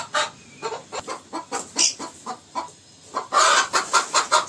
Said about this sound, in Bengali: এটা তো মোরগ আছে না বাবা?